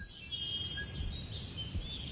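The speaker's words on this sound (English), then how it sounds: "I love that you can clearly hear the bird sample loop" A looping sampled birdsong from the video game Mothered plays as repeated high chirps and tweets over a soft, hissy ambient background, with no speech.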